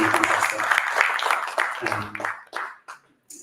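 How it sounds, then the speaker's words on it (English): Audience applause for a group of children after their performance at a live poetry reading, a dense burst of clapping that thins out and stops near the end. "Can we have another round of applause for the kids"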